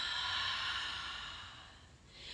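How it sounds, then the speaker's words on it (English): A long, steady breath pushed out through the mouth during a power yoga flow, a soft airy rush that holds close and fairly even for about two seconds before tapering off. "And then exhale through your mouth."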